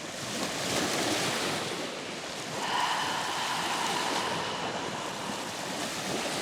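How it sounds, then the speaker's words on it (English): Ocean surf rolls and washes steadily, a continuous broadband hiss with gentle swells and a brighter breaking wave partway through, heard alone without voices. "And we're just gonna listen to the sounds of the waves for just a moment."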